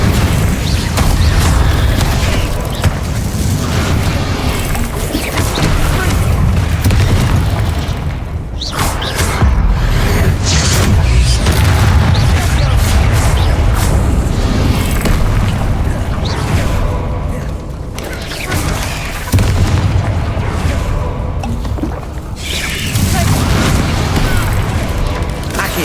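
Confringo and Incendio spell explosions in Hogwarts Legacy: loud, dense booms and fiery bursts crowding one another in a sustained barrage, with brief dips between volleys and voices mixed in.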